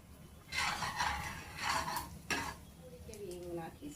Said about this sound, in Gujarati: તેલ ગરમ થાય કે પછી આપણે તેમાં લસણ નાખીશું। તેને આપણે સાંતળી લઈશું।